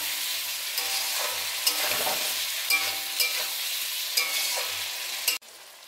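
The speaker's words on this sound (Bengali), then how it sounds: "এইভাবে আমি নাড়তে থাকবো।" A curry sizzles steadily in a pan with salt and sugar added, while repeated stirring strokes scrape through it up close; a low hum runs beneath until a sudden cutoff near the end.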